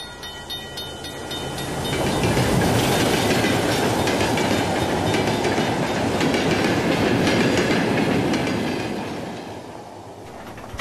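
A train rolls past on the railway line through Kareli, Georgia, rising from a distant rumble into a loud, steady clatter of wheels on track for several seconds before easing off again.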